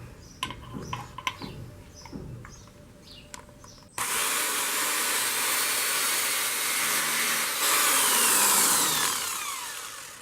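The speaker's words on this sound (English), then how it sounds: "So first you're going to drill into a jar lid." After a few seconds of clicks and handling noises, a loud power drill whirs continuously, its pitch shifting slightly as it bites into a metal jar lid.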